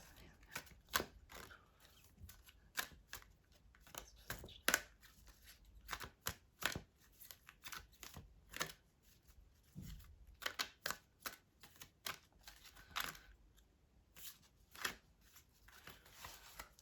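Tarot cards being shuffled by hand in a quiet room, a faint series of irregular riffling and slapping bursts scattered over about sixteen seconds, with a few soft murmurs around them.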